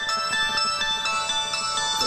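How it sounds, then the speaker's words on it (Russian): Phone ringtone of an incoming call, a steady melodic electronic tone repeating without pause across the whole two seconds, fairly loud and close with no voices over it. "Должна Татьяна Капустина позвонить, проверить меня."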